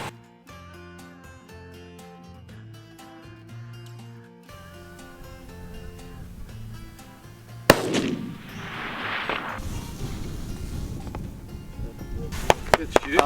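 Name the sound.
gunshot while deer hunting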